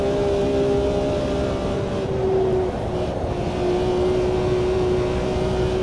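Racing car engine in Automobilista 2 holding a steady, loud drone with a sustained tonal whine that dips briefly midway, close and continuous throughout.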